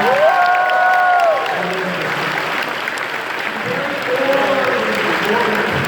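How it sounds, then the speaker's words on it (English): Applause and cheering from a crowded Anime Expo 2017 RWBY panel audience, a broad wash of clapping with a voice speaking and whoops rising over it near the start and again toward the end. "Please give a round of applause to everybody that's helping with."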